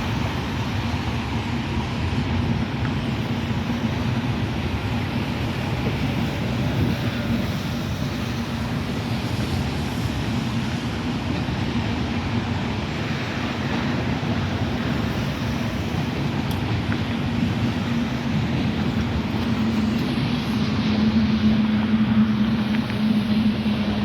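A Norfolk Southern manifest freight train rolls past near a track split and yard, giving a steady, fairly distant low rumble and rushing drone that stays even throughout, with a faint tonal hum rising toward the end.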